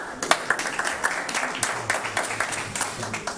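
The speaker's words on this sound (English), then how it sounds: "Round of applause" Sparse, scattered clapping from a small group at a school district board meeting, a light patter of individual claps rather than full applause, moderately close.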